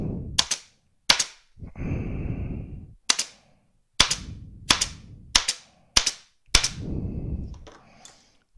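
Sharp staple-gun shots fire into leather one after another, about eight over several seconds, each a crisp close snap, with a few rustling scrapes of material between them, in a leather saddlery workshop.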